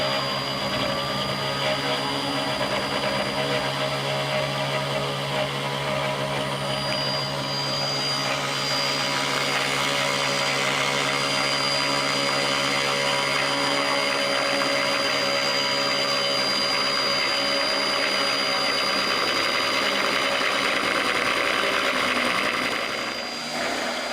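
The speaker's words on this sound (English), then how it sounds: "With the machine set to travel 200 millimeters per minute, it took about 45 minutes to mill out each of these blanks" CNC router milling wooden puzzle blanks at a slow 200 millimeters per minute feed, a loud, steady whining drone with a rumbling undertone that holds unbroken throughout and shifts slightly in pitch as the cut progresses.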